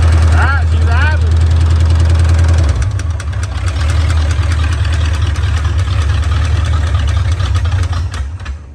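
A 1968 Ford Mustang engine idling with a steady low rumble and a ticking, clicking fuel pump, close and loud, after an early stretch where people talk over a higher running engine.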